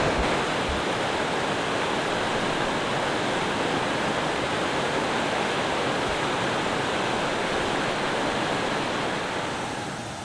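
Steady, loud rush of a waterfall running with high water on the Lostland Run trail in Maryland, a dense unbroken roar that continues throughout.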